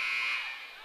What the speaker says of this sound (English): Now we got a buzzer